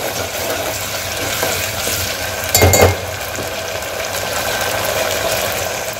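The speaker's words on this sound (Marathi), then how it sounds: "याला 2 ते 3 मिनिटं छान परतून घ्यायचं. तेल सुटेपर्यंत मी परतून घेत आहे." Masala ground for a drumstick curry sautés in oil with a loud, steady close sizzle, broken near the middle by a brief burst of scraping as it is stirred, and no voices.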